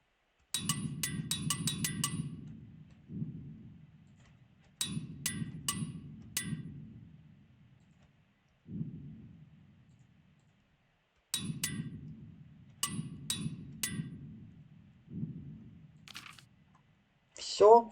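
Hammering clangs ring out in repeated bursts as equipment is repaired in Kingdom Come: Deliverance, sharp metallic strikes in quick clusters separated by pauses, each over a low rumbling tone, with a brief chime at the end.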